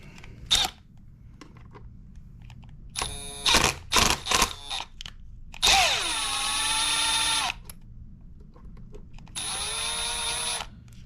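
A power driver works a 2 mm screw out of the steering on a Traxxas XRT RC truck: a few short clicks and clattering bursts, then two sustained close whirring runs with pitch that sweeps as the motor spins.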